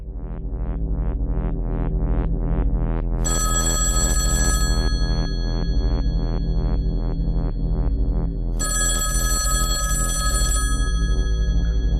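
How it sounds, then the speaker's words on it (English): A telephone bell rings in two long, shrill bursts over a steady, pulsing musical throb that runs through the whole stretch. "Well, are you going to answer the phone?"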